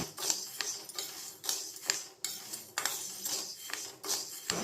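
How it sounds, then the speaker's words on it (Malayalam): Green gram dry-roasts over a low flame in a pan, stirred with a spoon that scrapes and clinks against the metal in a steady, repeating rhythm, close and alone. "250 ഗ്രാം പയറാണ് എടുത്തിട്ടുള്ളത്. അത് ലോ ഫ്ലെയിമിലിട്ട് നമുക്കിതൊന്ന് വറുത്തെടുക്കാം."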